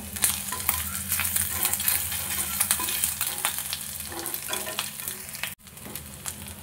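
Two bay leaves dropped into hot oil over low heat for a pumpkin curry with ginger give off a steady, close crackling sizzle that runs throughout, dipping for a moment near the end.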